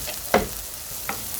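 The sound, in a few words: potatoes pan-frying in oil until golden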